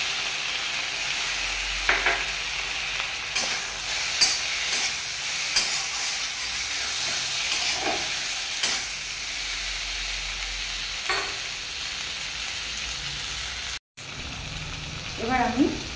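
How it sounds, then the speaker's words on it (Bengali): Fried prawns tipped into a hot pan with taro (gathi kochu) set off a steady, fairly close sizzle, with a few stirring scrapes and a brief pause near the end. "এবার আমি এই চিংড়ি মাছটা ভাজাটা এখানে দিয়ে দিলাম।"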